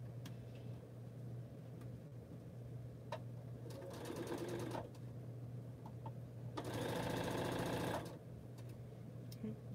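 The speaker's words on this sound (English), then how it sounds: "This is what I'm sewing. I'm actually sewing." Sewing machine stitching during a quilting session, two sustained whirring bursts of rapid stitching with quieter pauses and faint clicks in between, over a steady background hum.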